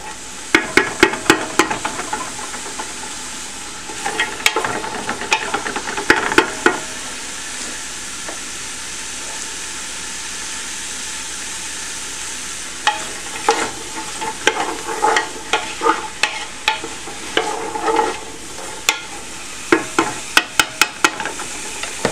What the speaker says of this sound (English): Stir it up. Make sure you got the olive oil covering all of your vegetables.